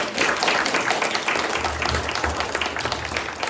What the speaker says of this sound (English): the audience here would like to give them a round of applause